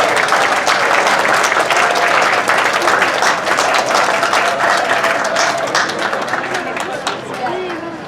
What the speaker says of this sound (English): Another round of applause for Chris Bautista.